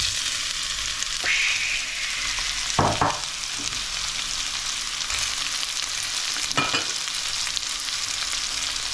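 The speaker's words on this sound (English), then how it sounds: "first thing I'm going to put in, onions." Onions frying in hot oil in a pan, a steady crackling sizzle that stays even throughout, with a few brief scraping stirs breaking in now and then.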